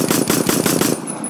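Rapid automatic gunfire in the first-person shooter game Phantom Forces: a loud, close burst of about eight quick evenly spaced shots that stops abruptly near the end.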